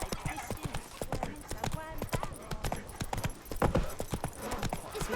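Roach the horse gallops in The Witcher 3 game, with rapid, steady hoofbeats clattering continuously throughout and a brief whinny, while voices talk over the running hooves.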